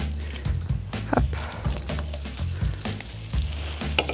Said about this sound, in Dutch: Dan gaan de aardappels erbij. Die laat ik eventjes goed aanbakken. En daarna gaat de worst erbij.